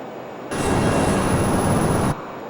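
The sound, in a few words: Learjet 35A jet flying in Microsoft Flight Simulator video game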